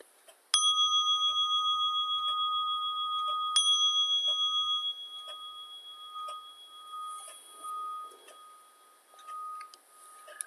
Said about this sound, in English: the sound of the bell will conclude this meditation today